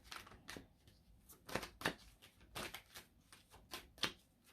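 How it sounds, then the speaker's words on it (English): Tarot cards are drawn and flicked from a deck in a series of quick, crisp paper snaps and slides, about a dozen close, sharp bursts at an uneven pace in a quiet room. "Let's go ahead and get 2 more cards out here."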